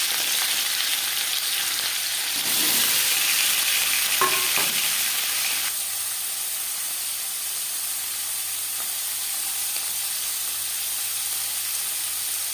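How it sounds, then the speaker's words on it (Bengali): Paneer fries in a hot pan with steady sizzling and hissing oil, louder for a few seconds with brief stirring clatter, then settling into a continuous fry without talk. "পনির ভেজে নেব।"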